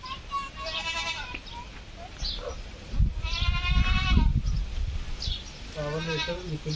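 Goats bleat several times nearby, the long wavering calls spaced out over a low rustling background.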